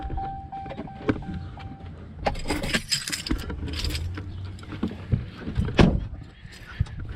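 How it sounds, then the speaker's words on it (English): Keys to a work truck jangle and clink in bursts near the microphone, with metallic rattles and some handling knocks in a shop or yard setting. "Got the keys to the work truck."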